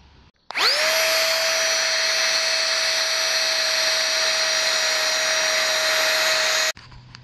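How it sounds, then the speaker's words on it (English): A small electric pump inflating an air mattress on a backpacking trip switches on abruptly, winds up and holds a loud, steady whine for about six seconds, then cuts off cleanly, with no talking. "I got this little pump to blow up my air mattress"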